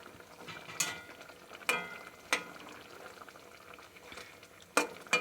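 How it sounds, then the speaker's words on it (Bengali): Fish simmering in a pot of liquid on the stove, a steady low bubbling broken by several sharp clinks and scrapes of stirring at uneven intervals. "তো চলো মাছটাকে ফুটিয়ে নিই, তারপরে নামিয়ে নেব।"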